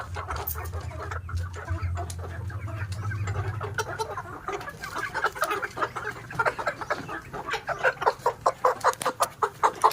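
Chickens on a poultry farm cluck steadily while they are vaccinated against coryza with an automatic syringe. Faint low handling noise sits under the clucks for the first few seconds, then the birds grow louder in quick repeated bursts toward the end.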